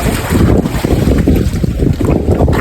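Strong gusty wind buffeting the microphone outdoors by a well, a loud continuous low roar that swells and surges in waves with no voices.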